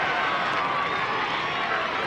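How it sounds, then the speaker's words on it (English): A football crowd roars at a 1994 Footscray versus Geelong match as Doug Hawkins warms up along the boundary line, a dense and steady wash of distant cheering under faint commentary. "the roar of the crowd is for Doug Hawkins, who's warming up around the boundary line"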